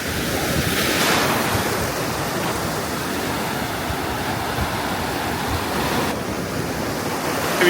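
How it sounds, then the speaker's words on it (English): Ocean surf rolling onto a deserted beach on Boipeba Island in Bahia, Brazil, a loud continuous roar of breaking waves mixed with gusting wind buffeting the microphone, no voices. "This is my favourite beach in Boipeba."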